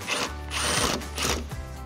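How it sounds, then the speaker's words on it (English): A ratchet with an extension and a 10mm socket works loose a headlight bolt on a 2007-2013 Silverado 1500. It gives short, close bursts of clicking and whirring, about three of them, with brief pauses between. "grab your extension and a 10mm socket and let's get this removed"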